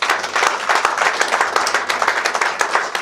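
A church congregation claps and applauds for the Lord during an evangelistic worship service, a dense, steady burst of many hands close by and loud, continuing through the whole stretch with no voices on top.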